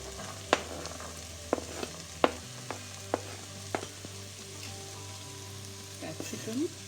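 Peas and beans sizzle in a pan for Bangalore-style vegetable khurma, a soft steady fry broken by several sharp clinks and scrapes of a spoon against the pan.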